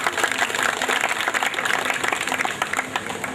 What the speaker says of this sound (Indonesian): Tepuk tangan untuk Ubud.